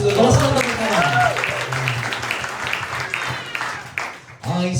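Church congregation clapping during a revival worship service, a broad wash of applause running under a loud singing or speaking voice, steady throughout with a brief dip near the end.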